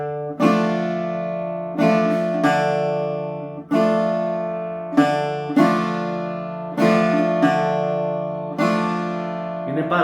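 A slow tsifteteli rhythm played as accompaniment on a pitched, ringing string instrument: strummed chords struck in an unhurried repeating pattern, each attack decaying slowly, close and clear with no talking.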